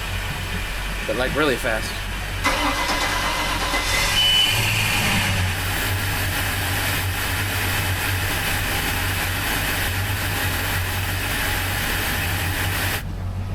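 A pair of boat engines with replaced manifolds and risers start up and settle into a steady low idling rumble, running continuously under a voice.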